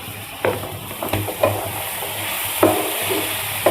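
Chopped carrots, beans and tomato are stirred into a hot pan of oil and spices, sizzling steadily with several distinct scraping stir strokes.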